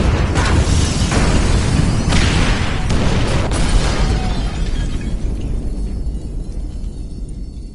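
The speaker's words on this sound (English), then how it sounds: "Detonate the incendiaries, Frank." Incendiary explosives detonate in GTA 5, a loud, sustained roaring boom with crackling bursts that slowly fades over several seconds, with no voices over it.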